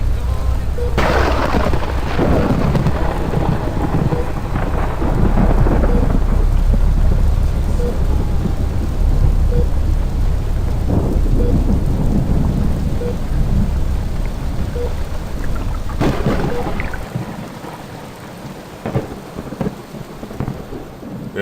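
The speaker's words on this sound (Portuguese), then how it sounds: "É noite fria, chuva e estrelas." Heavy rain pours steadily through a cold night thunderstorm, with loud rolling thunder cracks rising above the dense downpour and fading into lighter rainfall near the end.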